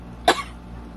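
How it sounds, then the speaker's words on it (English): A single sharp human cough bursts out close and fairly loud, then quickly fades against a quiet background. "Sorry guys, had a cough there."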